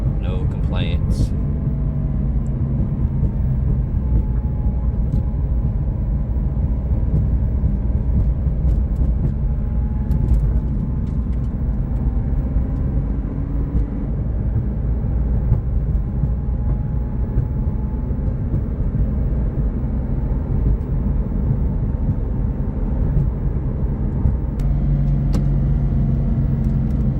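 A 2019 Porsche 911 GT3 RS drives along, its engine and road noise forming a loud, steady low rumble with a sustained tonal drone throughout, and no clear pauses.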